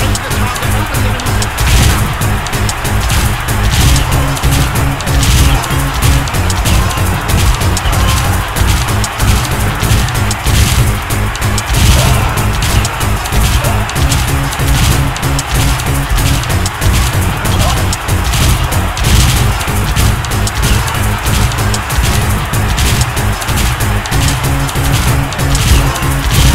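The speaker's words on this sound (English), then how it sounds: "You should try using this cannon to swat a few mosquitoes." Cannon fire aimed at enemies in the video game Asterix & Obelix XXL 2, with steady loud booms and crashes repeating throughout alongside game music and effects.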